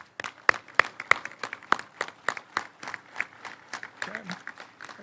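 Scattered outdoor clapping from attendees at the I-64 Widening Segment III ribbon cutting ceremony, sparse, distinct hand claps spaced irregularly and thinning toward the end, with some voices mixed in.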